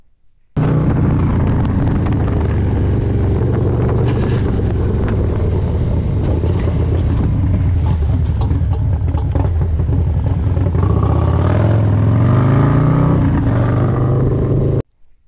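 A motorcycle rides the Tail of the Dragon road, with a loud, steady engine drone and wind roar that rise and fall through shifts and acceleration, close and continuous with no talk.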